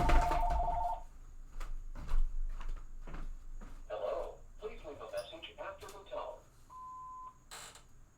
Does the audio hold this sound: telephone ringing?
yes